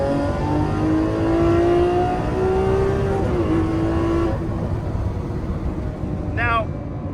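A Lamborghini Aventador SV engine drones loudly in sport mode and climbs in pitch, then cuts off abruptly, followed by a brief crackling burst of exhaust pops.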